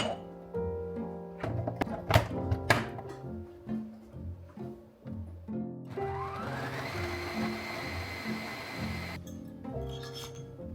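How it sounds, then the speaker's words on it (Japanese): Thumps and clatter give way to a Vitamix blender whirring up to a steady high-pitched motor drone for a few seconds, mixing sugar, milk, flour and butter, then stopping. "砂糖、牛乳、混ぜ合わせた小麦粉とバターをビタミックスで混ぜる。"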